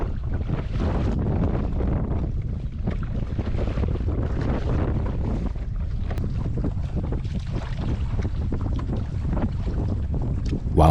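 Strong wind buffets the microphone as a kayak is paddled across choppy water near Shark Tooth Island, North Carolina. The steady roar and gusting noise continue throughout, with faint lapping of waves underneath.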